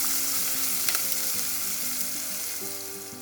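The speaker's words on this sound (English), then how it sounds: "Stir the onions and cook for 3 minutes." Chopped onions sizzle steadily in hot oil after popping mustard seeds for a tomato curry, with the faint scrape of stirring in the pan, close and even throughout.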